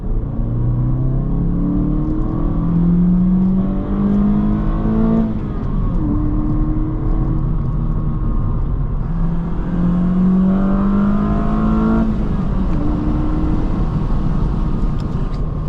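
A 2025 Honda Civic engine revs loudly and steadily, rising through the VTEC crossover on the intake cam in two long climbing pulls with a brief dip between them, close and continuous with no voices.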